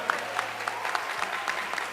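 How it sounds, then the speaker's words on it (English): Audience applause at a school Model United Nations closing ceremony, a steady wash of many hands clapping fairly close for the full two seconds, with no voices over it. "Can we get a round of applause for both of them?"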